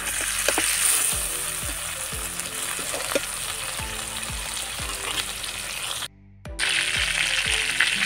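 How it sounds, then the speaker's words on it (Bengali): Prawns frying in hot oil in a kadai while being turned, a strong close sizzle punctuated by repeated spatula scrapes, with a brief drop to near silence partway through and no talking. "চিংড়ি মাছগুলো ভাজা হয়ে গেছে আর আমি উল্টে পাল্টে উঠিয়ে নিচ্ছি।"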